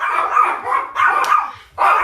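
Several dogs barking close by indoors, four loud barks in a quick uneven series, clear and with no talk over them.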